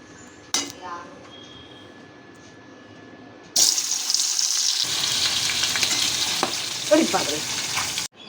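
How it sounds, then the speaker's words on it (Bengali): Magur catfish rubbed with turmeric, salt and raw oil frying in a pan: after a quiet start, a loud burst of spitting, spluttering oil takes over and keeps crackling, with a few faint clatters. "কিন্তু কই কি কে সেই ফুটতে শুরু করলো আমার হাতেও ফুসকা ফেলে দিল"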